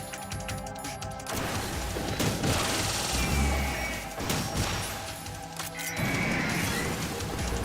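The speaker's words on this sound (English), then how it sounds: "It's when they start pulling out the fucking machine gun" Machine gun fire rattles in Metal Gear Solid, dense loud bursts with crashing impacts and thuds, continuous over several seconds with brief breaks between volleys.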